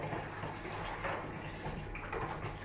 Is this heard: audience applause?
no